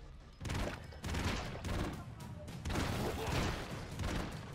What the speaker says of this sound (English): It's a burst fire, so just like Rumble.